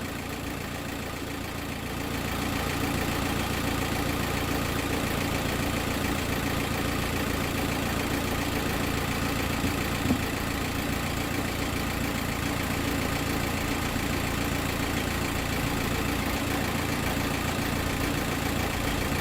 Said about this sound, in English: I'm going to turn the engine off